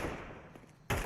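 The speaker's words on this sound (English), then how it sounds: "I'm gonna shoot." Gunfire in the video game Counter-Strike, a loud continuous burst that drops off briefly and then slams back in with a sharp, dense report.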